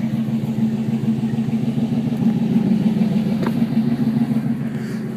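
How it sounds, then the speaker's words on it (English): A Chevy Tahoe engine with a dual Flowmaster exhaust and 33-inch tires rumbles at a steady idle, a deep, constant low drone close by with no talk over it. "And it has a dual Flowmaster exhaust."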